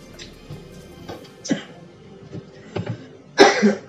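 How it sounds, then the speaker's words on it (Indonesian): A few short, sharp coughs and throat-clearing bursts while someone tastes Rocla bread, the loudest near the end, each one close and abrupt against a quiet room. "Batuk lagi."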